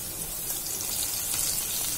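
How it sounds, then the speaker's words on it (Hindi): About half a glass of water is poured into a cooking pot on the stove, a steady close splashing rush with no voices. "और मैं अराउंड 1/2 ग्लास जितना पानी ऐड करूं।"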